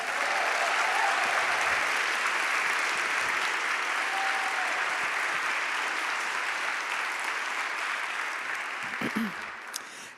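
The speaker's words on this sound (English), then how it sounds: "Can we give her another round of applause?" Sustained applause from a large audience at a CreativeMornings breakfast talk in New York, a steady wash of clapping holding for about ten seconds before tapering off near the end.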